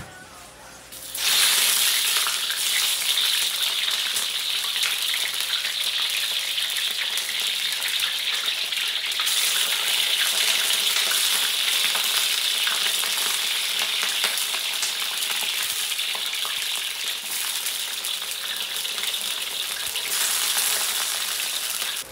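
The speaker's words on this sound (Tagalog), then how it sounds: "ipiprito muna natin itong talong" Eggplant frying in hot cooking oil, a loud steady sizzle that bursts in suddenly and keeps crackling and hissing without a break.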